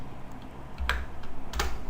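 Typing on a computer keyboard ending with a press of Enter: a few faint soft taps, then two sharper, louder key strikes close by, with no talk.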